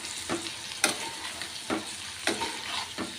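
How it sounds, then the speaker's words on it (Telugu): Flat beans (chikkudu) sizzle in hot oil in a pan while a spoon stirs them, giving a steady fry hiss with several scraping stirs spaced through it and no voices. "చక్కగా ఇవి ఫ్రై అయిపోతాయి"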